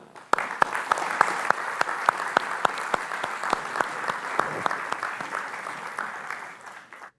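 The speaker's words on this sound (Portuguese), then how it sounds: "Uma salva de palmas, por favor." A crowd claps for a reading at a Portuguese literary book presentation, steady applause of many hands that begins sharply and fades toward the end, heard alone and fairly close.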